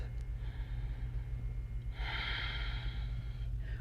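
Slow, soft breaths during a yoga flow, a quiet exhale swelling and fading against a low steady hum, close and gentle with no talking.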